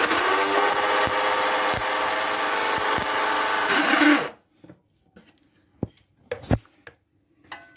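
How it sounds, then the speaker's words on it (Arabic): A small electric grinder whirs loudly and steadily for about four seconds while grinding sugar, then stops, leaving a few scattered knocks and clatters. "غادي نطحون هي السكر دابا"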